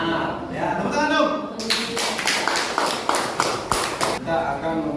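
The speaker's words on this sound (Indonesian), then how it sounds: "Ya, tepuk tangan dong." A class of students in a mathematics lesson on the Cartesian coordinate system claps together on request. The clapping is a dense, moderately loud patter that follows a teacher's voice and lasts a few seconds before the talk resumes.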